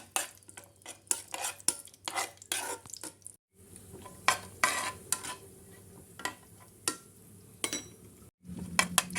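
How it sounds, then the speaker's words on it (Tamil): Nuts fry in ghee in a pan for jackfruit halwa, a faint sizzle broken by repeated sharp clinks and scrapes of a metal spoon stirring against the pan, with two brief silent gaps and no voices. "நட்ஸை இப்போ போட்டுக்கலாம். நல்லா கோல்டன் கலரில் ஃப்ரை ஆகி வரட்டும்."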